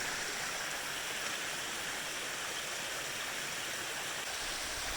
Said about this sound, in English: We've got more waterfalls.